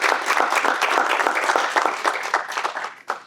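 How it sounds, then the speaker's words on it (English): Audience applause for a film director at a screening and discussion, a steady wash of many hands clapping that swells briefly near the end before tapering off. "let's go give a big applause for Gabriella"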